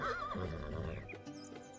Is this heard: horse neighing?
yes